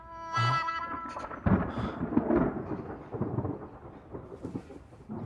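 Thunder rumbles outdoors ahead of coming rain, a sharp crack followed by a rolling, low roar that fades and swells, with a faint rain-like hiss underneath and no talking.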